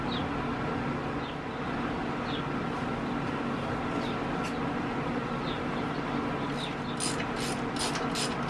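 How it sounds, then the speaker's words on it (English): Ratchet clicking while removing the front fan shroud from a 1942 Toro Parkway sickle bar mower, short bursts of close ticks, strongest near the end, over steady room hum. "So I'm going to start with getting this front fan shroud off of here."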